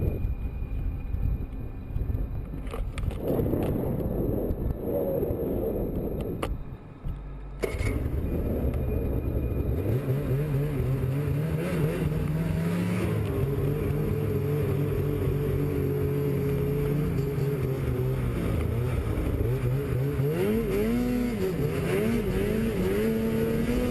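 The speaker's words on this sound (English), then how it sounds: "snowmobile enthusiast Chris Kenny Stovelbuck attempting to become the first person to ride up a steep mountain" A snowmobile climbs a steep mountain near Sisimiut, Greenland, its engine revving hard and rising in pitch under gusting wind noise on the microphone, with a brief drop partway through before the throttle surges again.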